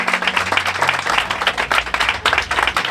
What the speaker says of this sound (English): Huge hand of applause, please, for Andrew Morton.